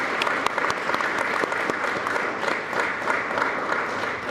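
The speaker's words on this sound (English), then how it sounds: "Please give these students a round of applause for their accomplishments." An audience applauds graduating students at a Baltimore County correctional officers' graduation ceremony, loud, dense clapping sustained evenly with no speech.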